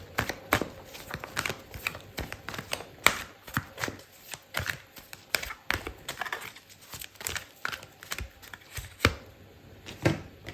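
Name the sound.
shuffling tarot cards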